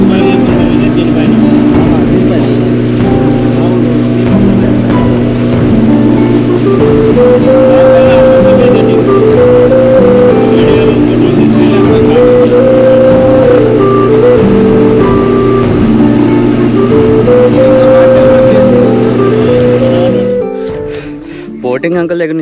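A motorboat carries riders across the water at Gandikota, its engine a loud, steady drone with a wavering pitch that holds for about twenty seconds before cutting off abruptly near the end.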